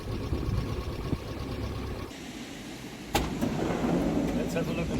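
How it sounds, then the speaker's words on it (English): After a full engine and transmission overhaul, a campervan engine runs quietly with a low, steady rumble. A sharp knock is heard partway through, and someone speaks over the idle. "The motor is very quiet after the revision."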